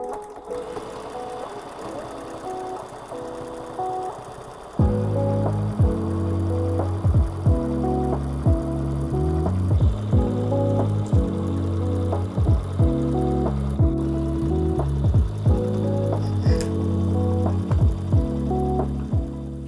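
A sewing machine stitches quilt selvages down onto fabric wedges, its motor whirring in long steady runs of rapid stitching with brief pauses between passes, close and loud.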